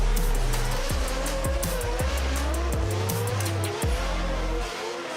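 A Toyota Supra drift car makes a qualifying run, its engine revving hard through repeated rising and falling shifts with tire squeal close by throughout.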